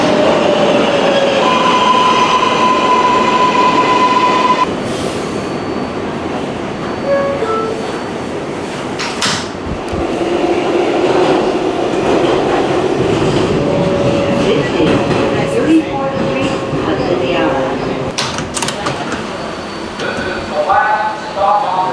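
A New York subway 7 train at the 34th Street Hudson Yards terminal station rumbles loudly and close, its steady roar broken by brief squeals of wheels and metallic clanks, with no talking.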